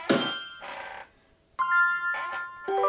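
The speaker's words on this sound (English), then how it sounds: "Oh, phone notifications." Phone notification tones ring out as a few short, clear electronic chimes, one sharp ping followed by a brighter sustained tone a second later, with brief noisy bursts around them.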